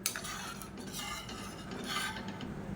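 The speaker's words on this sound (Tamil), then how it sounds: "சேர்த்துட்டு நல்லா கலந்து விட்டுக்கலாம்." A spoon stirs steadily through rasam in a pot, with soft scraping and faint clinks against the metal, quiet and continuous.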